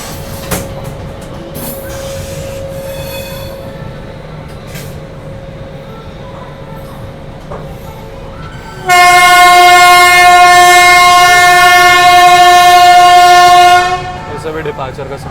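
The Kashi Vishwanath Express train stands with a low rumble of rail noise, then a loud, sustained train horn blares for about five seconds before cutting off.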